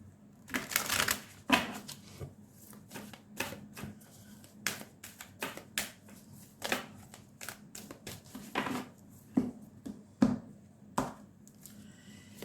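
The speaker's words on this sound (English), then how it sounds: "Now, I'm going to take out one card from the Soul's Journey Oracle" Cards from a Soul's Journey oracle deck shuffled and drawn by hand during a tarot reading, a run of quick papery flicks and soft taps, fairly close and quiet, with no talking.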